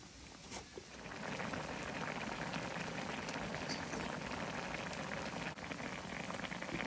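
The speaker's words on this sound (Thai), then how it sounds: "แล้วก็ต้มไปเรื่อยๆเลยครับ" Tom yum soup boiling steadily in a hotpot, a dense, even bubbling and hiss that holds constant and close after a brief quieter start, with no talking over it.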